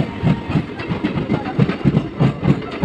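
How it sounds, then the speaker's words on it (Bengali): A local train rolls along the rails with a steady, rhythmic clickety-clack of wheels over joints, loud and close, with no talk over it. "এটা লোকাল ট্রেন।"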